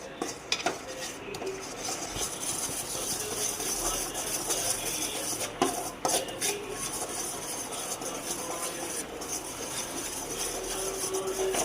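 Wheat flour being stirred in coconut oil in a kadai, metal spoon scraping and clinking against the pan steadily over a soft background hiss, with occasional sharper knocks.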